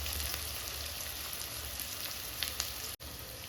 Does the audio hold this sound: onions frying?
yes